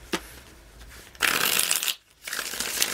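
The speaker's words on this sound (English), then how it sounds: "One more shuffle" Tarot cards shuffled in quick riffling bursts, a short flick followed by two dense, crisp runs of card noise separated by a brief pause, close and clear with no talking.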